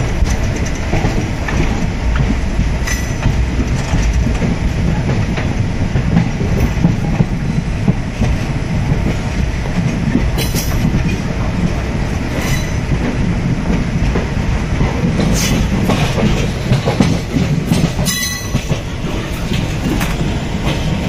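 The 13009 Doon Express passenger train runs along the rails, a loud, continuous rumble with clickety-clack wheel beats and occasional sharp metallic squeals heard from inside.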